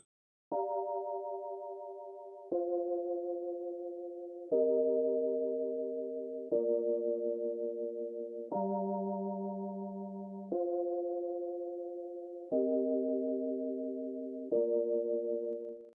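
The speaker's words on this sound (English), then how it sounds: "Now that sound is a mystic vibe under the experimental bank in Lounge Lizard." A mystic vibe synth patch from the experimental bank of Lounge Lizard plays a slow sequence of eight mellow, bell-like electric piano chords. Each chord rings for about two seconds and decays smoothly. The playing is quiet and clean, with no voices.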